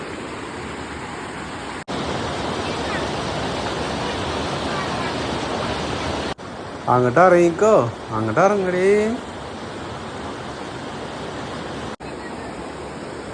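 Steady, loud rushing roar of a waterfall in Pattambi, continuous throughout, with people briefly calling out over the water noise partway through.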